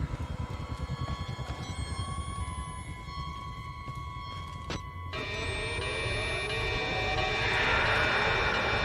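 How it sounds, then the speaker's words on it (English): A helicopter in the horror game Outlast passes overhead as a low rumbling drone that grows louder and fuller over several seconds, with faint tones and a sharp click. "Is that a helicopter?"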